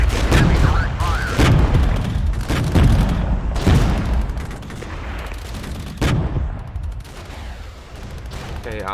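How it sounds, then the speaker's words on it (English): Battle sounds from the wargame Regiments: dense gunfire, bursts of automatic fire and booming explosions overlap in a loud, chaotic barrage, with a voice at times under the combat noise. "Heavy direct fire."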